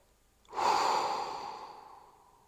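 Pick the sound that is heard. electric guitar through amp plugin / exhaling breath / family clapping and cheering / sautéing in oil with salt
exhaling breath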